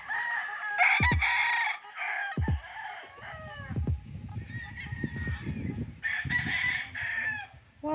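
Roosters crow repeatedly on a cockfighting chicken farm in Bohol, Philippines, close and loud, with clucking hens and other fowl between the crows.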